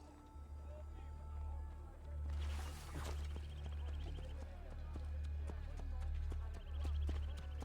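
Horse hooves clip-clop at a steady trot in a Renaissance Italy setting from an Assassin's Creed game, a rhythmic clatter throughout over a low engine-like hum, with a brief louder rush early on.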